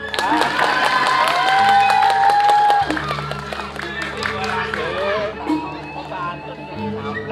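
An audience at a Balinese drama gong performance claps and cheers together, with sustained musical tones and voices mixed through the crowd noise.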